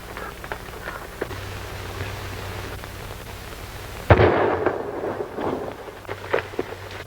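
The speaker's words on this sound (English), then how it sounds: "That shot came from the other side of that arroyo." A single gunshot rings out on a western film soundtrack, a sharp crack midway followed by a rumbling echo that fades, over a quiet background of outdoor trail ambience.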